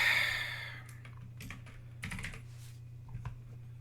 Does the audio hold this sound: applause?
no